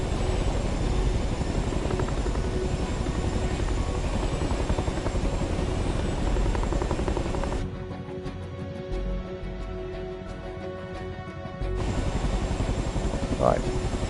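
A helicopter in Microsoft Flight Simulator drones with a steady, loud rotor and engine roar that drops lower and thinner for a few seconds midway before returning at full strength, with someone talking over it.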